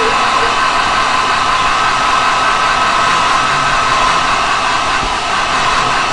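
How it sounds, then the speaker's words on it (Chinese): A hair dryer blows a steady, loud whoosh to dry a watercolor painting of an eye, running continuously and close by without pause. "那就必须准备一个吹风机"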